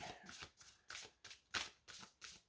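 A deck of cards is shuffled by hand before a card is drawn for an energy reading, with about seven soft, rhythmic riffling bursts close by and quiet in level.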